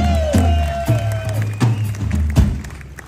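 A concert crowd cheers and claps for a band member between songs, with heavy thumps from the stage mixed into the loud noise of the audience.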